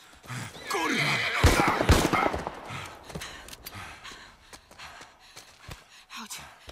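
A horse in The Last of Us video game neighs and snorts loudly up close, with a whinny followed by heavy breathing and a few hoof clops fading out.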